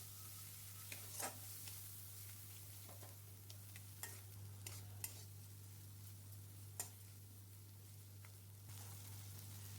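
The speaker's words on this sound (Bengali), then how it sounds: "এরপর এতে আমি 1 টেবিল চামচ শুকনো মরিচ বাটা আর 1 টিস্পুন হলুদ গুঁড়ো আর সামান্য পরিমাণ চিকেন মশলা দিয়ে ভালো করে এগুলো একসাথে আমি কষিয়ে নিচ্ছি।" Chili paste, turmeric and chicken masala sautéing in a pan, a faint low sizzle with intermittent spoon clicks and scrapes against the pan over a steady background hum, quiet and without talk.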